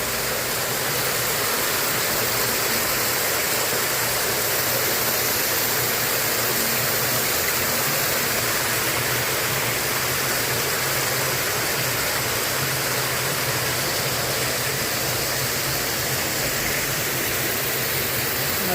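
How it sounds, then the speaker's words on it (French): Small artificial waterfalls at a lagoon aquarium in Anse-Vata send out a steady, loud, broadband rush of falling water that holds unchanged throughout. "Des mini cascades là."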